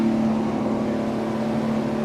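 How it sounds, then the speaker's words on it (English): A race car engine roars steadily and loudly in a race track garage area, a constant droning hum with no pauses, filling the whole clip. "engine is roaring right here in the background"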